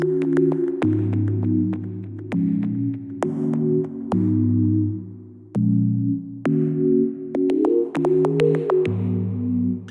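A synthesizer preset, GH Sign Toys on the Hive synth, plays sustained, layered chords that change every second or so, with bright plucked accents on top and a deep bass underneath, no voices.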